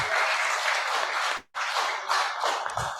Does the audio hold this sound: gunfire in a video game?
no